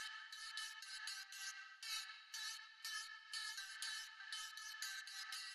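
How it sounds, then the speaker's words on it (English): A high-passed sample layer with a ping-pong delay effect, panned to both sides, from a rap beat breakdown plays as a steady, bright, shimmering texture in short bursts, echoes bouncing across the stereo field, with no talking. "increased the delay and gave it a ping pong bounce to sound like this"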